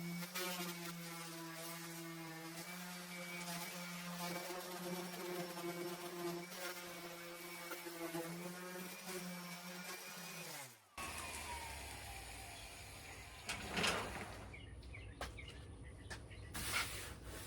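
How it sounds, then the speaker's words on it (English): A power sander works over a vintage mobile hospitality camper bar, a steady droning whine for about eleven seconds that cuts off abruptly, followed by softer scraping and handling noises. "let's get the sander and clean it up just a little bit"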